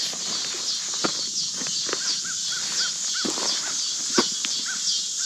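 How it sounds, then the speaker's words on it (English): Birds calling repeatedly over a steady high cicada buzz, with scattered crunching steps or knocks close by, in a wilderness quarry area. "You hear the birds, cicadas."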